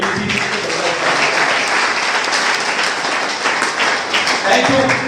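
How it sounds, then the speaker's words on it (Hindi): Loud, sustained audience applause with dense clapping fills the whole stretch at a Hindi-language motivational talk, with some voices mixed into the crowd noise. "भाई साहब जबरदस्त ताली बनती है भाई साहब से"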